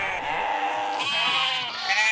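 Several sheep bleat together in a loud, close chorus, overlapping wavering cries rising in intensity for about two seconds.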